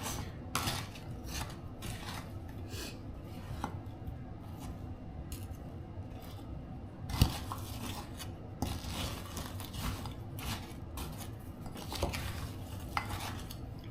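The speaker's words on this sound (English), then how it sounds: "mix all of this together really good until it's combined" Dessert ingredients being mixed together in a container, with scraping and clinking of a utensil against the bowl in irregular bursts, close and moderately loud throughout with no talking.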